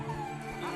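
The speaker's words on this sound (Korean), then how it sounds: "그런데 그 짖음이 어쩐지 심상치 않아 보이는데요." A schnauzer barks inside a home's living room near a baby: a close, continuous, agitated bark with whiny tones and no pause.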